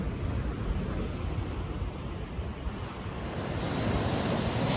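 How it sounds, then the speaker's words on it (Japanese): Rough spring ocean waves at a river mouth, a continuous heavy roar of surf with gusting wind buffeting the microphone, steady and loud throughout with no voices. "荒波、 春の波です。"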